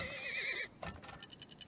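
A horse in the oil-drilling simulation game Turmoil gives a loud, wavering whinny for about two-thirds of a second, followed by faint clattering game sounds.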